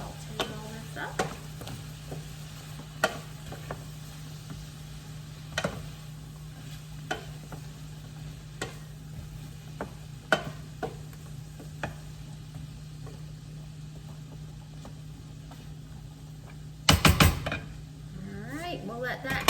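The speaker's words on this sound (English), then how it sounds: "All right, just sauteing all this up." Chicken pot pie filling sautéing in a frying pan, a soft continuous sizzle broken by irregular clicks and taps of a utensil against the pan, with a louder clatter of scraping near the end.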